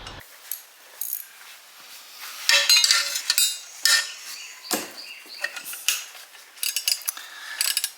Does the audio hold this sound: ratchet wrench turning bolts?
yes